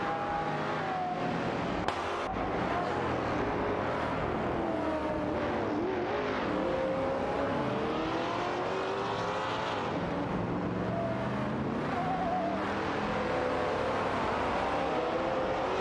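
Race cars in an AI racing video game roar continuously through an overtake, engine tones rising and falling as several cars jostle close together, loud and steady throughout with no talking.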